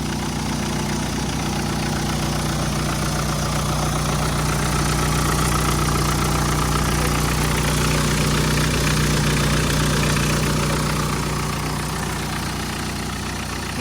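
A 1996 (Thai year 39) Mitsubishi Strada pickup truck's diesel engine idles steadily and close up, a continuous low rumble with a faint knocking texture running the whole time and no voices.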